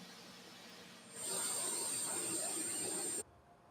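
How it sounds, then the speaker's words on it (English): Jet engine spooling up on an Embraer E190 in a flight simulator, a steady broadband roar with a high whine that rises sharply, holds loud for about two seconds, then cuts off abruptly. "We have a good engine start."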